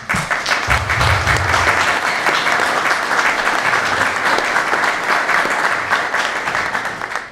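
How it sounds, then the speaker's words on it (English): A conference audience at a leadership event in Randolph County gives a big round of applause, dense steady clapping from many hands close by, running several seconds without a break and easing slightly at the end. "please join me in giving a big round of applause"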